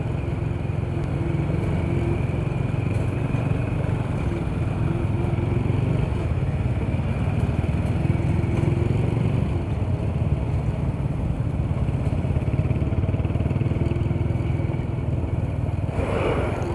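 Motorcycle riding through traffic, a continuous close engine drone and road rush with steady wind noise throughout.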